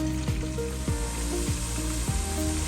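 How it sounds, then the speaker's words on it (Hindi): Mash lentils fry in a pot with a steady dense sizzle throughout, overlaid by a repeating pattern of tonal sweeps and hums, loud and close, with no talking. "ठीक 2 मिनट के बाद ये देखें फ्राई होना स्टार्ट हो गया"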